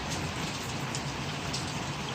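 Steady rain falls outside on a morning, a dense even hiss of drops on surfaces, continuous and fairly loud with no voices.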